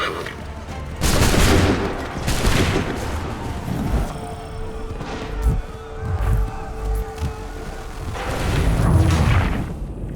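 Musket volleys crack out in a battle in Assassin's Creed III, several loud broadband blasts rolling over a continuous din of distant gunfire, with a steady tone in the middle and a heavy volley near the end.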